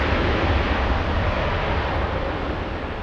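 A large Lufthansa airliner gives off a steady low engine roar at moderate distance, fairly even in level for the whole stretch with no talking over it.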